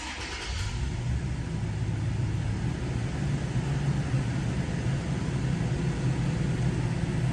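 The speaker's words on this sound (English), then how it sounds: "let's go ahead and start this vehicle up for y'all" A 2016 Toyota Tacoma TRD Off-Road engine starts with a brief crank, then settles into a steady, even idle hum heard up close without any talking.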